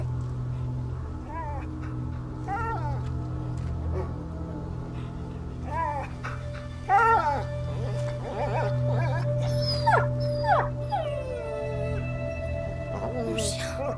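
A dog whimpers and howls in the medieval video game A Plague Tale: Innocence, a run of rising, wavering whines and short cries over a steady low droning background, with faint game ambience throughout.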